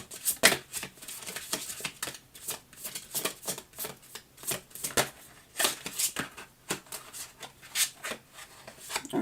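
Tarot cards shuffled and pulled from the deck, a long run of crisp, rapid riffling and flicking bursts at close range with brief pauses between, no talk over it.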